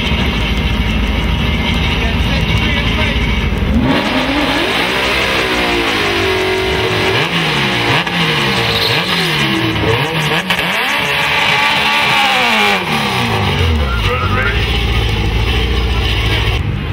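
Honda and Ford Mustang Coyote drag cars revving before a quarter-mile drag race, loud engines rising and falling in repeated blips over a constant roar, close by, with a brief faint voice.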